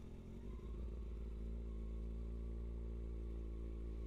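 A Kawasaki ZX6R 636 motorcycle rides on after an upshift, its engine holding a steady, loud, continuous drone with a brief rougher clatter at the start.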